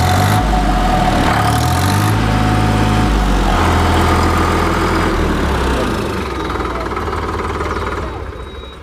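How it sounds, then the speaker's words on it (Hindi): A loud Sonalika DI-50 Tiger three-cylinder tractor engine idles close by, with a rough, steady rumble that fades slightly toward the end. "तीन सिलेंडर इंजन की आवाज़ काफ़ी शानदार।"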